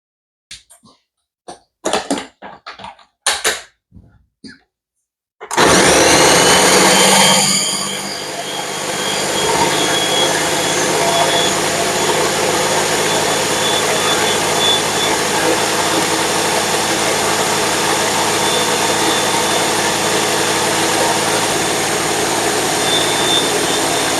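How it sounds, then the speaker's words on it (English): Ninja Mega Kitchen System 1500 blender crushing and blending pepper, a loud steady motor roar that starts abruptly after a few brief knocks and runs on without a break. "Okay, we're done blending the pepper."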